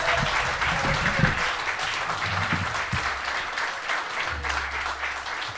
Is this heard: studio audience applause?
yes